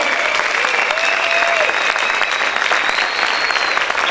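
A church congregation applauds loudly and continuously, a dense sustained clatter of many hands, with faint cheers and voices rising within it.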